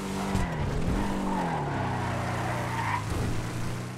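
Shyster Deviant car in Grand Theft Auto 5 skidding through a city, its rear end flicking out, with a loud continuous engine drone and rising, wavering tire squeal throughout.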